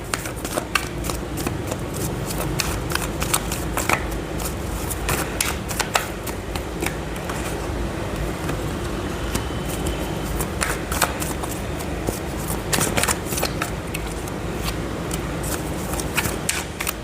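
A deck of tarot cards is shuffled steadily for a long stretch, giving dense, crisp papery riffles and flicks with sharp clicks scattered throughout, close up and fairly loud, with no talking.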